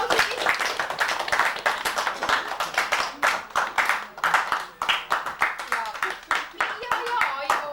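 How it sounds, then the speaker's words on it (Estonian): Small indoor gathering clapping along in a fairly steady rhythm for nearly eight seconds, the claps close and moderately loud with children's voices and chatter mixed in. "Teeme ikka aplausid."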